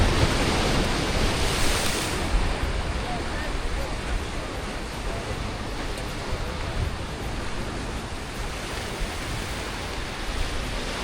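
Continuous wash of North Sea surf rolling onto the shore at Cromer, Norfolk, with wind buffeting the microphone throughout.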